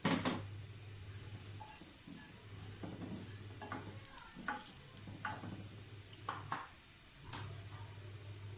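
Coconut fries in desi ghee, a soft sizzle broken by irregular stirring scrapes and clicks, with a low electrical hum pulsing on and off, all fairly quiet.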